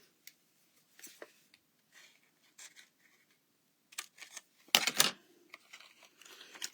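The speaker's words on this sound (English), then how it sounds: "Let me just cut a piece off." A few short, quiet snips and crinkles come from cutting a piece off a foam dimensional adhesive for card making, with one louder crunchy cut near the middle among sparse light rustling.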